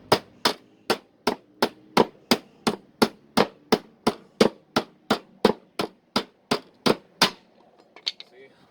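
Hammer blows folding sheet metal over the side of a homemade bike box: about twenty sharp, evenly spaced strikes in a steady rhythm, close and loud, ending with a few softer clanks.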